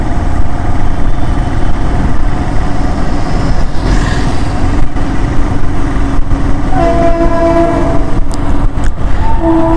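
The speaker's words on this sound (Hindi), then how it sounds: "अभी ट्रेन कुछ चालू हो चुकी है, तो ये ट्रेन की आवाज़ आ रही है।" A train runs along a railway track right beside a roadside in Patna, loud and continuous rumbling with steady rail clatter and horn-like tones toward the end.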